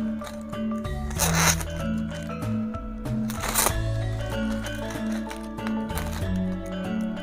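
A sharp knife slices through a red plastic bag in two quick, crisp swishes, close and loud, over an underlying musical backing.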